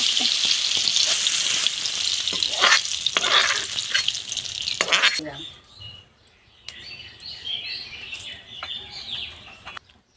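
Pumpkin and ridge gourd fry in a pan with a loud, steady sizzle and scraping stir strokes for about five seconds, then the frying noise drops away, leaving birds chirping outdoors.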